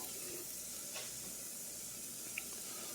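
Onions softening in a pan for Sunday gravy give off a steady, even sizzle and hiss, close and moderately quiet, with a faint clink of a utensil partway through.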